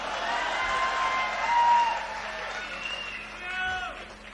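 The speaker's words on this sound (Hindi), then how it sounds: "आगे की लाइन में बैठे सभी खंडरों ने तालियां बजाई।" An audience at a Hindi comedy poetry show breaks into applause, a steady wash of many hands clapping from the crowd that swells and fades, with voices and murmuring mixed in.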